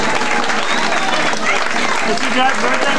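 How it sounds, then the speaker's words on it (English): Audience applause for a father-in-law's birthday at a live music set at Oliver's, dense steady clapping from a crowd with cheering voices mixed in, loud and sustained throughout. "Everybody give him a round of applause."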